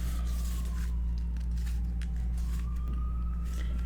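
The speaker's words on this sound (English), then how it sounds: "I live near a fire station and a hospital, so we get a lot of sirens." A distant emergency-vehicle siren from a nearby fire station or hospital wails faintly, rising and falling slowly over a steady low hum of background noise.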